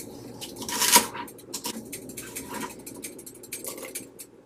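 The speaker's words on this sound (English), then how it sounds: "Here's a neat way to cut celery. Cut down the middle." A knife slices lengthwise down the middle of a celery stalk, giving a few crisp clicks and taps against a cutting board, loudest near the start, then lighter scattered knocks.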